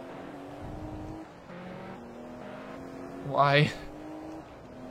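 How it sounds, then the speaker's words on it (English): A Ferrari sports car engine in a racing video game drones steadily with shifting tonal lines, rising briefly into a louder rev or squeal near the end, while a voice speaks over it. "This fucking Ferrari is fast."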